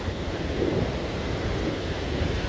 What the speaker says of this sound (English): Even over here, you can see and hear how much power there is still in that part of the river.